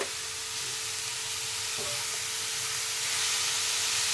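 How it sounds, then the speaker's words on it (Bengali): Beetroot fries in a nonstick wok while being stirred, giving a soft, continuous hiss and sizzle at low volume with no voices. "বিটগুলো আমি দিয়ে দিয়েছি। এবার আমি ভালো করে নাড়িয়ে নেব।"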